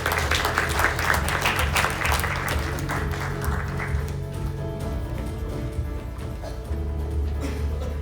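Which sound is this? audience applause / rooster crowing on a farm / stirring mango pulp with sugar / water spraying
audience applause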